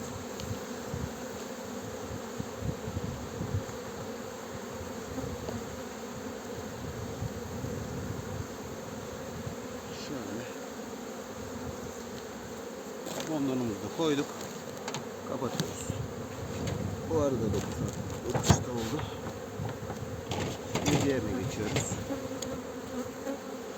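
Honey bees buzz steadily around their hives in a Muğla apiary in April, a continuous dense drone close by, with short louder passes of individual bees flying near.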